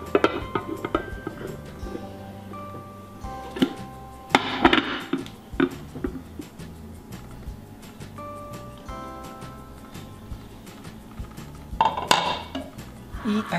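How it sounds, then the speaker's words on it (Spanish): A large plate set down and handled on a table while unmolding a coconut flan, with scattered ceramic clinks, knocks and scraping of dishes and utensils, some louder clatters among quieter handling noises. "Voy a poner este plato, tiene que ser un plato más grande"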